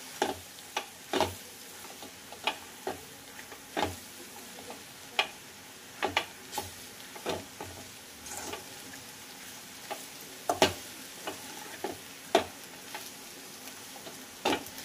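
Roasted jowar flour gets stirred into an ukalpendi mixture in a pan, soft scraping and tapping strokes recurring in an irregular rhythm over a faint sizzle, quiet and close.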